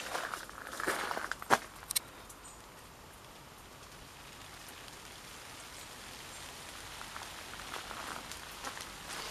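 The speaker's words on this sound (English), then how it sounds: "There's some rain now coming down again." Steady rain patters down outdoors, a constant hiss with a few sharper taps and thumps early on.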